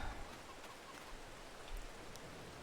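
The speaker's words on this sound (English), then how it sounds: "And it's raining." Rain in the farming game Farming Simulator 22, a steady, quiet broadband hiss lasting a few seconds with faint scattered ticks, heard alone without talk.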